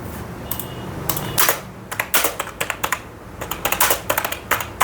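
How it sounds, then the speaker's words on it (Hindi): Computer keyboard typing in irregular bursts of sharp, close clicks and clacks, with short pauses between flurries, no voices. "कीबोर्ड का साउंड दोस्तों मैं रखता हूँ ताकि आपको फीलिंग आए कि आई एम टाइपिंग"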